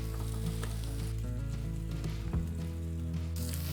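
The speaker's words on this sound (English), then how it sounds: "and that's what you want, that sizzle." Steak sizzling in a Revolve rotating cooker, a loud continuous crackling fry with steady hiss and a brief shift in tone partway through, no talking.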